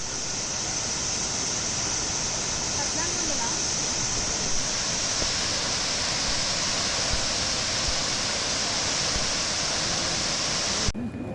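Broad, unbroken roar of water gushing from the opened gates of the Osman Sagar (Gandipet) reservoir after heavy rains in Hyderabad, loud and steady throughout.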